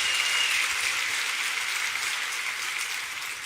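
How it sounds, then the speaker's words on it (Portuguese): Church congregation applauding during a sermon, steady rapid clapping from many hands that holds evenly for several seconds, moderately distant and gradually easing off slightly. "Pode dar uma salva de palmas, pode dar glória a Deus em nome de Jesus."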